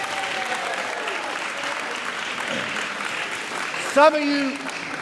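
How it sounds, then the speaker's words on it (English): Audience applause and cheering to welcome a family during a live broadcast, steady clapping throughout with a brief whoop near the end and a voice speaking over it. "Let's all give a cheer and welcome them that way."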